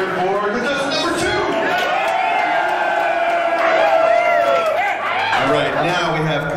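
An audience at a Mr. Bare Chest 2012 pageant cheers loudly for the second contestant, a steady wash of whoops and shouting voices carrying through to the end.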